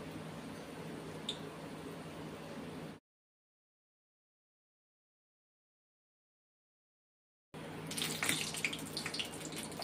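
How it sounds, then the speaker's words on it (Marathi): Patti samosas frying a few at a time in moderately hot oil give a steady, close sizzling hiss, broken by a long silent gap before the sizzle returns, brighter and busier. "मी तळून घेणार थोडे थोडे, 2-2, 3-3 असे तळून घ्यायचे."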